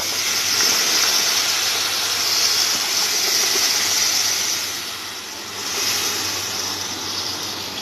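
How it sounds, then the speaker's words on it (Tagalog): Blended tomato hits sautéed browned garlic in a hot pan, giving a loud, sustained steamy sizzle and hiss that eases briefly before swelling again. "Tapos lagay natin itong na-blend na kamatis."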